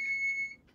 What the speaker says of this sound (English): Does the beeping mean that the lasagna is done?